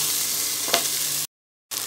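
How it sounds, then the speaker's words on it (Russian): Onion, carrot and potato fry together in a multicooker with a dense, even hiss, cut off by a short silence before the sizzle briefly returns. "Отправляем одновременно обжариваться лук, морковь и картошку."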